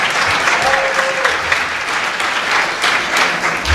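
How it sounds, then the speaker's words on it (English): Audience applause at a dinner celebration, a dense, steady wash of clapping that holds loud and close throughout with no pauses. "Let's give them another round of applause."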